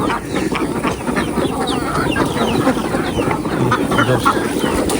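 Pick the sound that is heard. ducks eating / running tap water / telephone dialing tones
ducks eating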